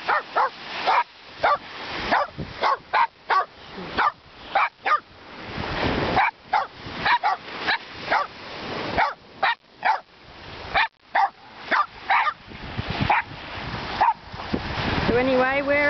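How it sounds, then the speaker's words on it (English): Two dogs play on a beach, letting out a long string of loud, sharp barks and yips in quick bursts. Surf washes in the background and grows steadier toward the end. "My little doggies, Buddy and Jeff, enjoying the beach as much as I am"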